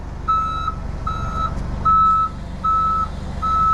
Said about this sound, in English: Okay, now put it in reverse.